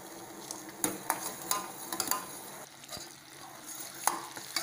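Sugar syrup bubbling in a pan while a spoon stirs it for a Malabar sweet, with repeated sharp scrapes and taps against the pan over a low simmering hiss.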